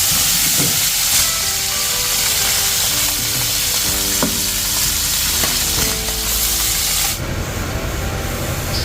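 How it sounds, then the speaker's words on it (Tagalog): Steady, loud sizzling and crackling of biya fish frying in hot oil in a pan, continuous throughout with faint clinks, then a brief louder hiss near the end. "Magprito tayo ng ating biya."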